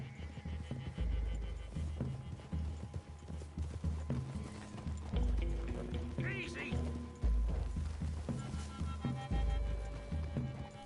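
Horse hooves clip-clop steadily in a Red Dead Redemption 2 scene, moderately close and rhythmic, with ambient forest sound and a brief spoken word over it.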